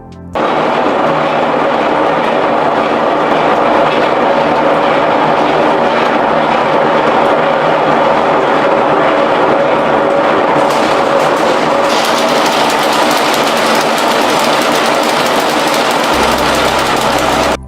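A 500 horsepower horizontal steam engine, fed by coal-fired boilers, drives 308 weaving looms through belts and shafting in a textile mill. The result is a loud, steady mechanical roar that runs continuously throughout, with no talking.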